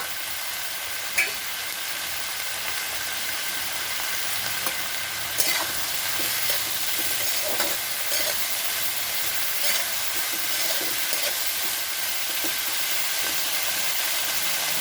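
Bottle gourd peel fries over a high gas flame, giving a steady hissing sizzle that runs unbroken, with a few faint stirring knocks, close and even in level.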